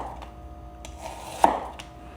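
A knife chops through an onion on a cutting board: a few soft taps, then one sharp crisp cut near the middle and a lighter tap after, close and alone in a quiet kitchen.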